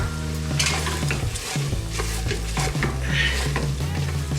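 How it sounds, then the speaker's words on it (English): Dal tadka being stirred in a pot with ginger garlic paste, a loud close sizzle with repeated scraping and clinking of a spoon against metal, steady throughout with shifting low tones. "Stir it, make sure everything is mixed."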